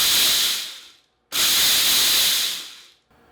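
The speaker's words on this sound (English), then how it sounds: "we're going to go ahead and grind these up." A food processor grinding dry popcorn kernels makes a loud, harsh grinding whir in two bursts about a second and a half each, separated by a short silence, with a faint tail afterward.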